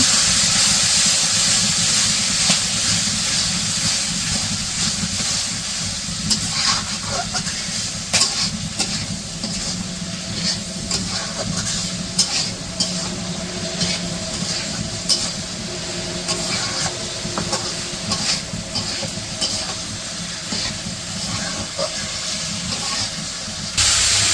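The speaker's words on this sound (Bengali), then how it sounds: "এই যে সবজিগুলো কষিয়ে আর ডিমও দিয়ে দিল, এখন ভালো করে কষিয়ে নিয়ে" Potato, eggplant and eggs are stir-fried together in a pan for a village egg curry, giving a continuous loud hiss and sizzle broken by scattered scraping clicks.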